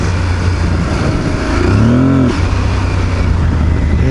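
A 2022 Aprilia Tuareg 660 adventure motorcycle rides off-road with a steady, close engine drone that swells briefly in the middle, with wind rush and no speech.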